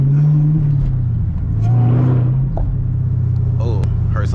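A supercharged Camaro ZL1 with a six-speed manual drives on the highway, its engine giving a steady loud low drone with rising revs and whine, heard from inside the car alongside talk.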